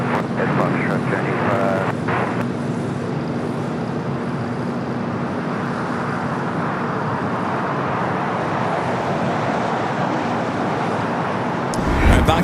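An Atlas Air Boeing 747 takes off from the south side of Los Angeles airport, producing a steady, loud jet roar with a low hum. Voices talk over it near the start.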